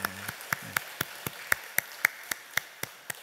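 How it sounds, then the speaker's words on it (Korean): A small church congregation claps during a Korean Sunday service, with a dozen sharp, evenly spaced claps in a steady rhythm, close and fairly loud against a quiet room. "우리 선혜에게 박수 한번 해줍시다."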